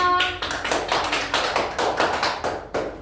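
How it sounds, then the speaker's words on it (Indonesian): Classroom students clapping hands during a lesson, a rhythmic patterned clap with clear distinct beats in a regular sequence, close and fairly loud. "Jawabannya betul sekali, tepuk tangan untuk temannya."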